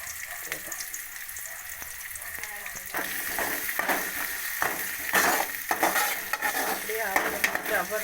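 Onions and garlic paste frying in a pan while being stirred, with continuous sizzling and repeated scraping strokes of a spoon, fairly quiet and close.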